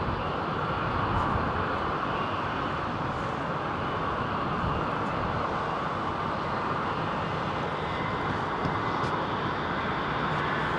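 Boeing 777 airliner lining up on the runway at London Heathrow, a loud continuous engine rumble and whine, steady for the whole stretch with no voices.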